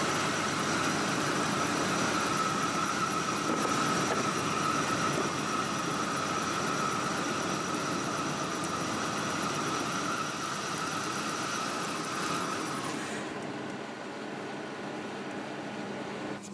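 Engine of a 2000 Chevy Blazer with a misfire runs steadily, with a whining squeal on top, then drops off and quiets as it stalls after the fuel pump relay is pulled.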